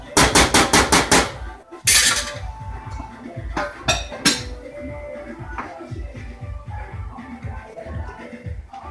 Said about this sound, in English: Stirring frequently.